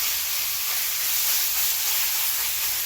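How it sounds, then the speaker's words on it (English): Steady loud hiss and sizzle of chicken searing in a hot wok, continuous and close, with no voices. "So we're getting a nice sear on the bottom of this chicken."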